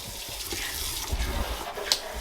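A new kitchen sink faucet runs hot water at strong pressure, a steady close hiss and splash with a brief sharper spatter near the end.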